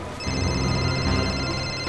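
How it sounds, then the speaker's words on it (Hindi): A telephone rings on and on unanswered: a steady electronic ringing tone sits over a dense, loud background of sound-effect music, without any talk. "शिशिर फोन क्यों नहीं उठा रहे?"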